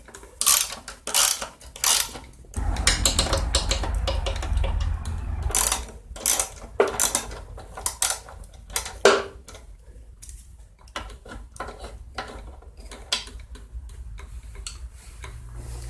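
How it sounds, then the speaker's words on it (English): A 3/8 socket ratchet clicks while removing top cover bolts from a 2002 Craftsman Tecumseh 4.25 HP engine, bursts of rapid close ticking separated by pauses, with occasional clunks. "This is a 3/8 socket to take this top cover off."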